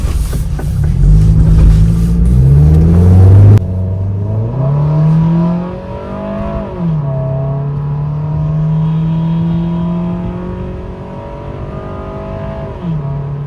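A Scion tC with the 2AZ-FE engine, which has an oil burning problem, drives on the road, its engine droning steadily and rising and falling through gear changes, loud and close from inside, with no talk.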